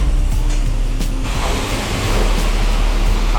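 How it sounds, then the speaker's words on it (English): High-pressure soap spraying from a wand at a self-service car wash, a steady loud hiss and rush of water that holds for the whole few seconds, no voices. "Then we're gonna go high pressure soap"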